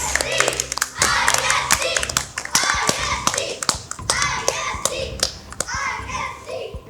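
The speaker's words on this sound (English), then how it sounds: "A big cheer for your team." An audience claps and cheers for a school quiz team at a Tea Quiz League knock-out match, dense steady applause with young voices shouting throughout.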